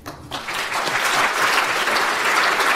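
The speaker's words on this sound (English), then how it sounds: "I hope you realise that is applause for you, Lucy" Audience applause at a business talk on leadership, a dense, steady wash of clapping that rises quickly and holds at full strength throughout, loud and close with no voices over it.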